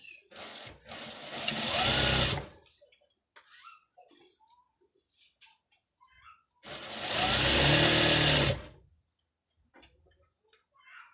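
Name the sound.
sewing machine stitching trousers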